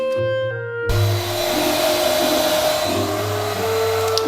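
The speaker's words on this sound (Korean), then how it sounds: "여러분들의 드라이기를 사용하실 때 보통 뜨거운 바람으로" A hair dryer switches on and blows steadily with a loud whooshing roar and a low motor hum, close by and continuous.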